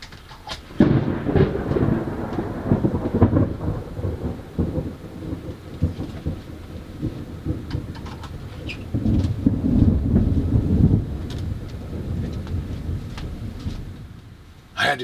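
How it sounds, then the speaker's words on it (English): A thunderstorm: deep rolling thunder rumbles build and fade over steady rain, with a heavy swell of thunder near the middle, the whole scene heard from just inside an open door. "It is thundering like crazy."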